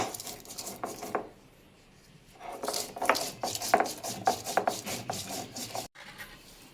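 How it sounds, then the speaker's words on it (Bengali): Green chillies are ground into a paste for a rui fish curry, making rhythmic rough scraping and rubbing strokes that come in bursts with brief pauses, close and moderately loud. "আগে আমি কাঁচা লঙ্কাটা বেটে নেব।"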